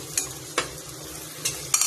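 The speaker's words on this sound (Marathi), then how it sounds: "परतून घेणार आहे मस्त" A soft, continuous sizzle from a pan of spices with turmeric and pav bhaji masala, broken by four quick scraping strokes of a spatula stirring the food.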